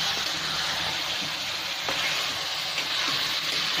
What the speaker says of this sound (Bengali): এখন এতে 10 মিনিটের মতো আমি ভাজতে থাকবো